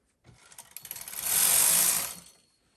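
Knitting machine carriage with a circular ribber pulled across to knit rows of waste yarn on alternate needles: a rattling, clicking mechanical sweep that builds into a smooth whirring pass, then fades, with no talk.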